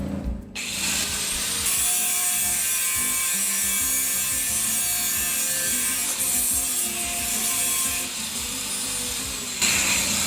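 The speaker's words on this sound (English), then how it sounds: "I gotta clean these spots where they're gonna be welded so that the weld goes well" A power tool grinds metal spots clean before welding, giving one continuous, loud, close whine that holds steady for about ten seconds with only brief dips.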